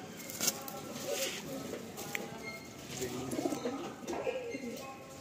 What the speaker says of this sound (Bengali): নটটা যখন গুটুরগু করে দারুণ লাগে